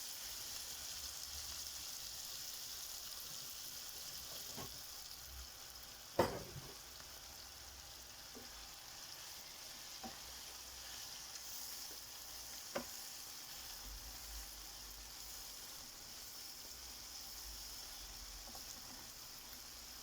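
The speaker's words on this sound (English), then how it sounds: "I'm going to be frying this rice either 2 times or 3 times." Quiet, steady sizzling of rice frying in oil, a continuous crackling hiss broken by a couple of sharp clicks.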